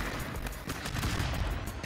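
Gunfire in the 2D brawler video game Stick Fight, a dense burst of loud rapid shots that runs nonstop through the clip, close and sharp with a little faint speech underneath.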